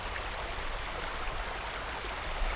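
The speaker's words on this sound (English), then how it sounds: "Just the sound of that water rippling by." Water ripples steadily in a stream beside a bridge on an old road in the Scottish Western Isles, a constant close wash of rushing noise with no pauses and no voices.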